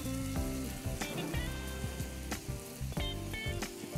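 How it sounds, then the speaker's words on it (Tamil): Tomatoes and spices sautéing in hot oil in a pan: a steady, close sizzle with soft crackles and a few stirring scrapes, with no talk. "ஸோ இப்போ தக்காளி வதங்கட்டும், வதங்கி அந்த ஆயில் கண்டென்ட் அப்படி வந்து வெளியில் வரும்போது நம்ம மசாலா சாட் பண்ணால் கரெக்டாக இருக்கும்"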